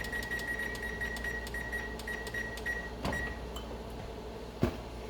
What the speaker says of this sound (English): I'm gonna set the oven to 425.